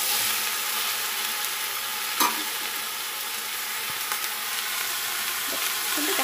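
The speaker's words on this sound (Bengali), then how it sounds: "সবজিটা একটু কষাকষি করি, কষিয়ে ভাজা ভাজা করে ব্যাস" Mixed winter vegetables being stir-fried for khichuri, giving a steady, fairly quiet sizzle and hiss from the pan with a brief clink of stirring and no talk.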